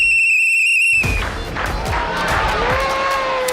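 Celebratory whistles blown by a crowd after a poll victory, a steady shrill tone that cuts off into loud crowd noise with cheering and scattered whistles mixed in.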